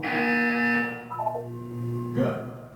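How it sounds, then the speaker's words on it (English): Electronic buzzer in a wellness exercise, a sustained harmonic tone that cuts off after about a second, followed by shorter tonal blips and another brief burst near the end, alone without speech. "You will hear a buzzer."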